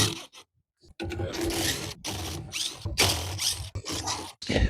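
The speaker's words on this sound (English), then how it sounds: "And to take those out, you want to use a 10 millimeter nut driver." A 10 millimeter nut driver turns out the screws holding the counterweights on an LG front-load washing machine, giving close, loud ratcheting and mechanical clicking in bursts separated by short pauses.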